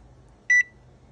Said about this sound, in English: Once it beeps, it's ready to go